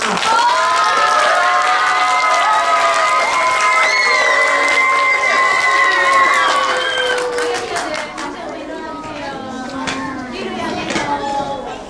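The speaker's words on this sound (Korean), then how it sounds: "우리 다 함께 멋진 강연을 해준 친구들에게 다시 한번 박수를 보내줍시다." Loud, lively applause and cheering from a crowd of schoolchildren at a third-grade career fair, packed clapping with excited voices, while a speaker's voice runs over the first half before the clapping thins out.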